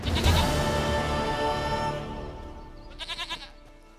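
A goat in The Witcher 3 lets out a loud, drawn-out bleat up close, which fades out and is followed by a short quavering call near the end.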